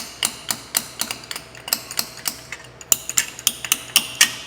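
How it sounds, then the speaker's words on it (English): A hammer wrench working in a machine shop, giving a steady series of sharp metallic clanks at a fairly even rhythm, about sixteen strikes in quick succession, close and loud with no talking. "We use a hammer wrench."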